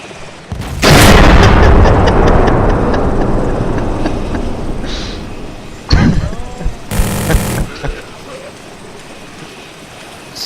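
Explosions and gunfire in the military game ArmA 2: a loud blast around the one-second mark rolls into a long rumbling decay, followed by sharper bursts and a bright crack near the seven-second mark.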